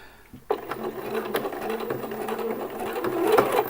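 A sewing machine topstitches around a T-shirt neckband, starting abruptly and running in a steady close mechanical rhythm at a moderate level for several seconds.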